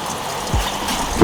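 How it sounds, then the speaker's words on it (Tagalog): Water dripping and trickling inside a 1997 Audi A4 that sat in a garage for five years, a short close wet trickle with a low gurgling splash, no talking. "Now she's dripping."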